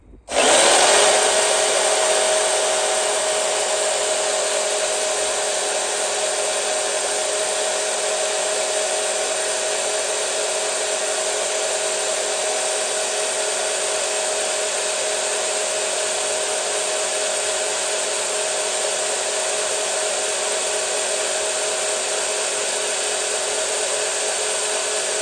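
A power tool whines steadily as it cuts through a steel sway bar link from a Crown Victoria, starting abruptly and holding a loud, continuous high-pitched grind for the full length with no pauses.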